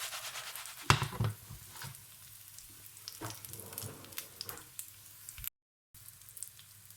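A breaded cordon bleu fries in a little oil in a pan, giving a soft, steady sizzle with a few sharper crackles just after it is turned, moderately quiet and close, with no talking.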